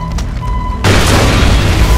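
A grenade blows up in the video game Far Cry 3, a sudden loud boom partway through that fills the rest of the clip with a heavy, sustained roar after quieter game sounds.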